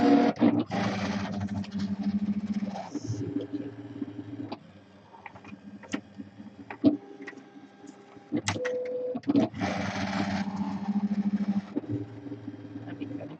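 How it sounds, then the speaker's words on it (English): A Silhouette electronic cutting machine cuts a craft project, its carriage motor whirring in long steady buzzing passes broken by short ticks and clicks, close and fairly loud. "I'm going to put this into my machine and cut."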